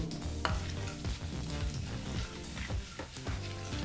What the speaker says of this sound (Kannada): ಈ ಎಲ್ಲ ಪದಾರ್ಥನೂ ಮೂವತ್ತು ಸೆಕೆಂಡು ಫ್ರೈ ಮಾಡ್ಕೋಬೇಕು